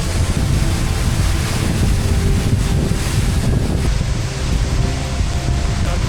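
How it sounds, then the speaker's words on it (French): Strong wind roars steadily across the microphone in the Philippines, a loud continuous buffeting rumble with no voices. "Il y a un vent, on peut même pas ouvrir les yeux."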